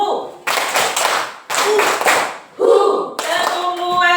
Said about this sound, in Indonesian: Oke, tepuk luar biasa.